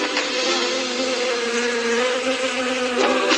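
A steady, dense insect buzz drones on without a break, loud and close, like many wings humming together.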